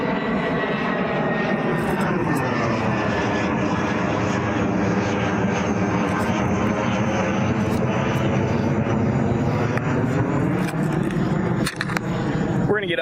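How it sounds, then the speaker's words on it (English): A fixed-wing airplane passes overhead, its engine roar swelling steadily and then fading across about thirteen seconds, loud and continuous, with a faint voice briefly audible beneath it. "here comes another plane."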